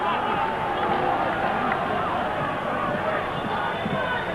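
A large crowd roars at a 1965 rugby league test match between New Zealand and Great Britain at Swinton, a dense, continuous, fairly loud hubbub beneath a commentator's voice.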